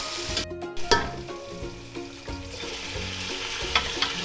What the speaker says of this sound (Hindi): थोड़ा सा इसको हम फ्राई करेंगे और साथ ही हमने जो गोश्त तैयार करके रखा हुआ है मटन, वो हम इसमें शामिल कर देंगे।